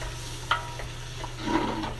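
Butter sizzling and frying in a pan on a high-BTU stove: a steady, moderately quiet hiss with a few small clicks and pops, under a constant low hum.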